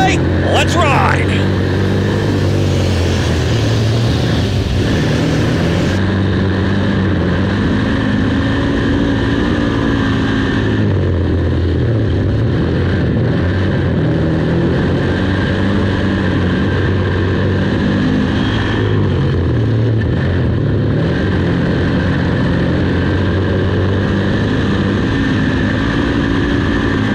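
Big Block Modified race cars roaring around Brockville Ontario Speedway, a loud continuous engine drone that rises and falls as the field circles the track, with a commentator talking over it.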